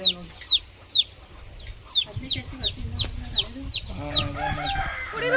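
Village chickens clucking and squawking in repeated sharp calls close by, with a child's chatter and background voices joining toward the end.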